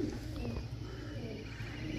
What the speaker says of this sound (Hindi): ये वाला कबूतर बहुत ही पुराना है